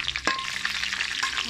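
Chilies fry in hot oil in a pan while cooking Thai grilled mackerel chili paste. A dense, close crackling sizzle runs throughout, and a sharp utensil scrape cuts in early on.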